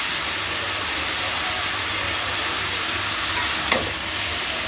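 Papaya frying in a pan with a little garlic paste and ginger paste, a steady soft sizzle running throughout with a couple of brief louder crackles near the end; no one speaks.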